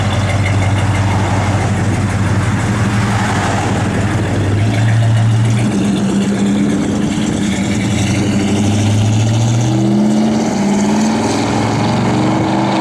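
A 1970 Dodge Super Bee engine runs close and loud, holding a lumpy idle and then rising and falling through several revs, with no talking over it.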